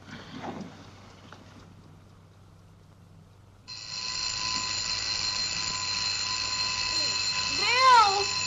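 An alarm clock rings loudly and steadily, starting abruptly partway through after a quiet stretch with a few faint background voices, then continuing without pause to the end.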